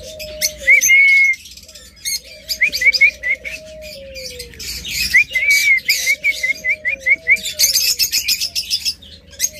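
A tame pet bird, a lovebird, budgerigar or cockatiel, whistles repeatedly up close, with bright rising whistles and rapid chirping trills running throughout, alone with no talk.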